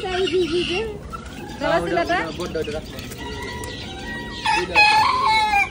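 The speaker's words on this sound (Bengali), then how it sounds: "মুরগি খুব সুন্দর দেশি আলামিনের মুরগি, দেখেন কত সুন্দর" Desi chickens on a poultry farm cluck and crow in several close, irregular bursts, including a rising crow, with a person talking over the birds.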